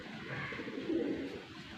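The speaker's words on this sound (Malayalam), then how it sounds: "പ്രാവ് കൂടുന്നുണ്ട്." Pigeons coo briefly in a soft, low, rounded murmur, heard fairly close but quiet, with no voices over it.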